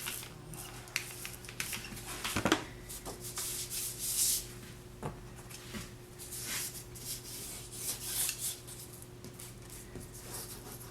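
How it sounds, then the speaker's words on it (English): Close, steady rubbing and scuffing on a freshly glued old book binding being pressed down tight, with a few sharper scrapes and knocks scattered through a quiet room background. "Rub it nice and tight."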